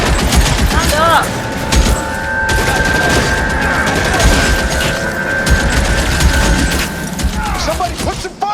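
Gunfire rings out during a shootout in L.A. Noire, a steady, loud barrage of shots and booms filling the whole stretch, with voices shouting over the shooting.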